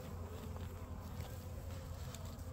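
Bees buzz faintly at the entrance of a single hive that other bees are robbing, a continuous low hum with small rising and falling swells and no talk.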